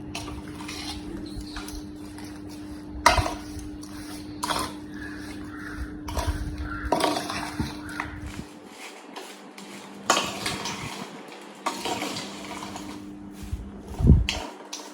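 Grated raw mango being stirred with spices in a bowl for mango pickle, with scraping and clinking of a spoon against the dish in irregular bursts, close by and fairly quiet, no talking.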